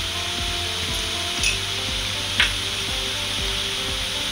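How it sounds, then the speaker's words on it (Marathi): Onion sautéing in a pan gives a steady, close hiss of sizzling with a couple of brief scraping stirs, for a Malvani/Goan chicken kheema snack. "आता कांदो जरा बरोबर परतून घ्या."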